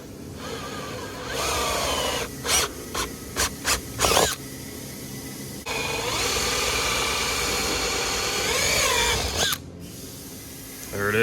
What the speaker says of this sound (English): There it is, holes are drilled